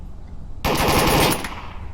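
Burst of automatic gunfire in the VR shooter Onward during a competitive league tournament match, a sudden loud rapid volley lasting under a second before cutting off to quieter background.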